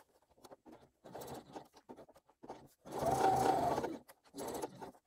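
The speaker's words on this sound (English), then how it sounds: "Sewing all the way around, starting and stopping in one of the short ends using a longer stitch length" A sewing machine topstitches around connector tabs on a crossbody bag with a long stitch, running in several short bursts, then one longer sustained run near and fairly loud, with pauses between.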